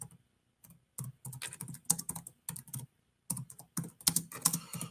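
Someone types a task title on a computer keyboard. Irregular bursts of quick, close keystrokes are separated by brief pauses, with no voices.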